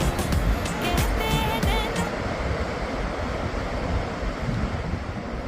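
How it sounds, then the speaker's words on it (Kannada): Sea waves surge onto a shore, a steady broadband wash with wind buffeting the microphone; faint scattered sounds appear in the first two seconds, then a continuous roar of water. "ಸಮುದ್ರ ಉಕ್ಕಿ ಹರಿದು ನೀರು ಇಲ್ಲಿವರೆಗೂ ಬರ್ತಾ ಇದೆ"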